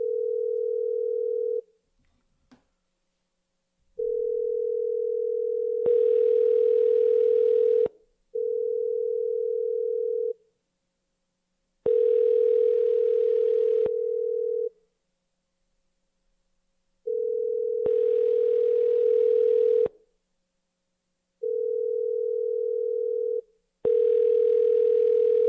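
Outgoing phone call ringing unanswered: a repeating electronic ring tone in regular cycles of long tones and pauses, with faint line noise overlapping some rings, clean and close with no talking.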